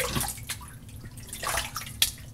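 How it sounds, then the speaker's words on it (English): Water splashes and drips at a sink as lather is rinsed off a face during a shave, soft irregular splashes in a few bursts against a quiet, close background. "go ahead and rinse your face"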